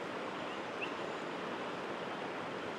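Steady broadband rush of a small river tributary flowing, on an Oregon steelhead river, continuous and fairly even throughout with no voices.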